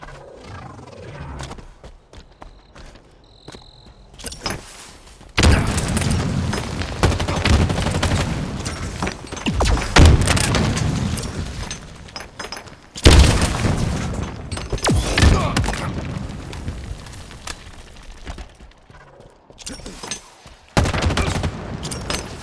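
Halo Infinite weapon fire in training mode, long dense stretches of loud rapid shooting with booming blasts, separated by brief quieter gaps.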